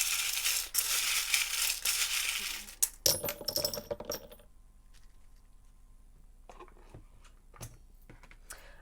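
Tarot cards shuffled by hand, giving a dense, fairly loud papery riffle for about three seconds, then several sharp snaps and taps as the deck is squared, then quiet with a few faint, scattered clicks.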